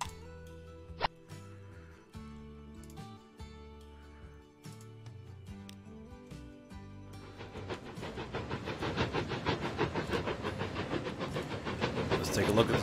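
A steam-era locomotive hauling teak coaches in the Transport Fever 2 game runs louder and nearer from the middle on, with a dense rolling rumble and rhythmic clatter that builds to the end, and no talk over it.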